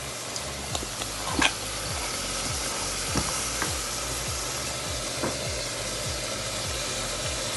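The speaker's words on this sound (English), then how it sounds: "pasta cooking, as you can see over there, boiling." Pasta boiling in a pot of water on a home stove in Tanzania, a steady bubbling and sizzling hiss with a few soft stirring clinks, continuous and fairly close throughout.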